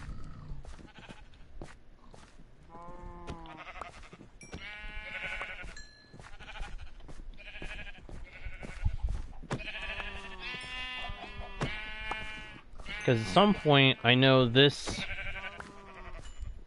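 Many sheep crowded in a pen in Minecraft Bedrock bleat repeatedly, overlapping calls of varying pitch coming in quick succession, with someone speaking briefly between them.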